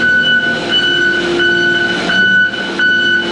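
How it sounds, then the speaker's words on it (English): A small but loud horn on a piece of heavy equipment at an equipment lot gives a steady, blaring, sustained tone that runs close and loud for about three seconds, with no talking. "Oh, he's got a loud little horn on it."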